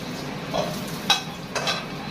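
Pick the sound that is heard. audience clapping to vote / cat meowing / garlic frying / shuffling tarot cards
garlic frying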